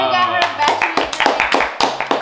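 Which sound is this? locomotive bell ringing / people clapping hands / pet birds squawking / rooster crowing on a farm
people clapping hands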